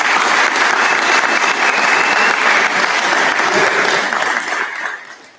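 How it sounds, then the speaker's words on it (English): A large audience applauds parents in a sustained, loud round of dense clapping that holds steady before fading out at the end. "parents, let's give them a round of applause."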